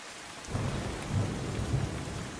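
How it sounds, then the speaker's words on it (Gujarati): Heavy rain pours down in Surat as a dense, steady roar of downpour, with a low rumble beneath. "વરસાદ મુશળધાર પડ્યો છે"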